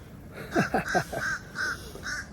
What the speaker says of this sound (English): an annoying bird, whatever it is. Wah, wah, wah, wah, wah.